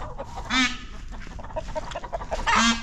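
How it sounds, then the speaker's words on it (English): Two loud, nasal honking calls from a peafowl, one early and one near the end, with quieter clucks and rustling between them on a homestead with chickens. "now they're honking like they should"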